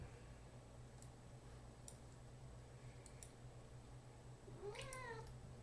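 A cat meows once near the end with a rising-falling cry, close and fairly clear, over steady low room hum and a few faint clicks earlier.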